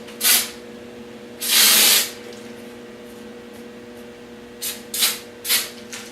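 Hairspray from a nozzle hisses in sharp bursts: a short puff, then a longer spray of about half a second, followed by three quick short spurts, all close and loud against a quiet room.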